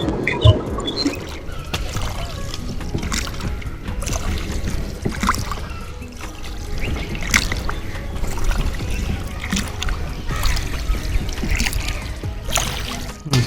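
A boat moving across open water on an afternoon trip gives a steady churning, splashing wash that runs without a break, fairly close and moderately loud.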